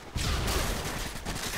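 Rapid gunfire in a Call of Duty video game, a dense, loud burst of overlapping shots with thumping low impacts, continuous across the whole moment.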